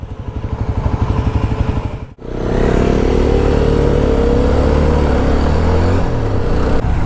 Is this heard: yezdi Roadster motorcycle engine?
yes